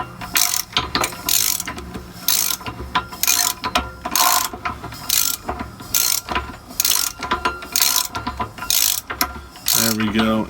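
Ratchet wrench clicks in repeated bursts while turning a fresh Cumminsless 4BT diesel over by hand, with rhythmic mechanical clatter and faint compression pulses between strokes.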